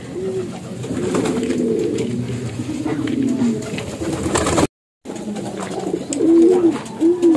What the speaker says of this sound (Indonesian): Video dari kandangnya Mas Faes. Ada berarti dua burung Mas loh